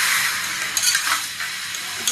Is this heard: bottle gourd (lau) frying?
yes